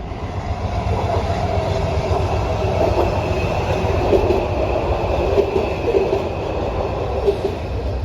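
A metro train runs steadily nearby, its wheels rumbling and rattling with occasional faint squeals over a constant low roar.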